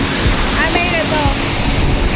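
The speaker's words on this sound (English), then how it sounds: "Top of the rock. And the waterfall." Steady broadband roar of a waterfall at a rocky jungle river in Puerto Rico, loud and continuous close by, with brief whistling tones drifting over it.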